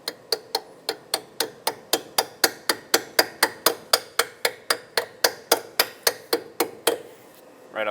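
Rusty strut clip on a 2014-2021 Mazda 6 front strut being hammered back into place: a steady run of about twenty-five sharp, evenly spaced metallic taps, close and loud, with no talking.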